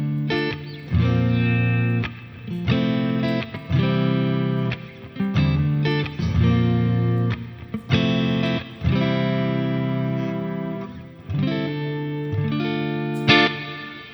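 An electric guitar plays through a Mesa Boogie amp with a clean tone touched by reverb and a little delay, strummed chords and picked notes ringing out loudly with short pauses between phrases.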